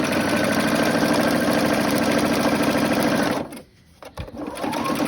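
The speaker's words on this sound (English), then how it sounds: "But you're going to sew all the way down." A sewing machine stitches down a length of fabric with a loud, close, rapid mechanical whirr. It stops briefly near the end, then starts again, with no talking.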